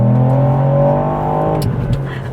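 Ford Puma ST with a manual gearbox accelerating hard at full throttle in Sport mode, a loud close engine note with harmonics climbing steadily in pitch before dropping at a gear change near the end, with no talk.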